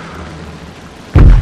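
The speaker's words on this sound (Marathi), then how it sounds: "तोफांचे आवाज त्यांच्या कानावर पडले." A single heavy cannon boom from a battle scene in an animated film about Shivaji Maharaj erupts near the end, loud and low, after a steady rumbling background.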